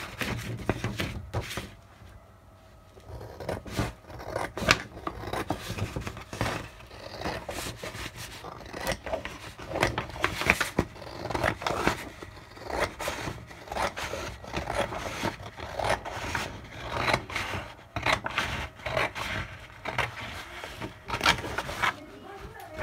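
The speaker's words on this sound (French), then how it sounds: "je vais tracer au crayon et je vais prendre mon ciseau après." Large scissors cutting through material along a traced pencil line, a steady run of rubbing, rasping snips close by for most of the stretch, with a brief quieter pause early on.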